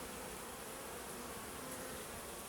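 Dense, steady buzzing of many honeybees around a hive in an apiary, continuous and fairly quiet, with no voices over it.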